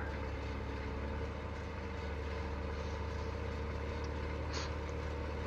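Steady engine drone of a tractor running in the Farm Simulator video game, a continuous low rumble that holds evenly throughout without any talk over it.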